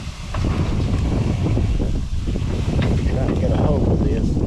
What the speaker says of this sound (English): The wind's starting to pick up out here.